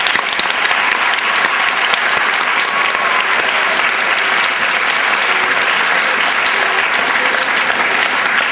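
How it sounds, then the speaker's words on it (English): Sustained audience applause at a school gathering welcoming home the state champion soccer teams, steady dense clapping throughout with no talk over it. "we give a round of applause to both teams"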